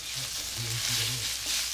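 Saltfish being stirred and sautéed in hot oil, a steady close sizzle with a few soft scrapes of the spoon across the pan.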